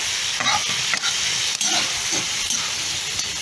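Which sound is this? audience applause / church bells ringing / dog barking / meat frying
meat frying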